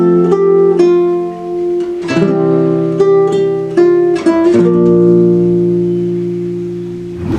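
Acoustic guitar played fingerstyle runs through the chord progression of a song, with sustained plucked chords and bass notes changing every second or so, close and clear with no voice.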